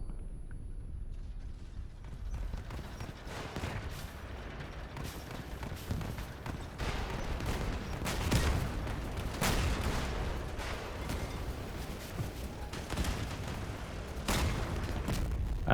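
Gunfire from a super heavy vehicle build in the Crossout combat game, with dense repeated bursts and booming impacts over a constant mechanical rumble, loud and close throughout.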